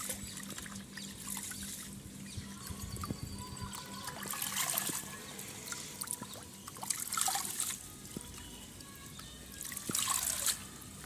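Water trickles and splashes in uneven bursts, pouring and dripping close by, with louder rinsing surges every few seconds.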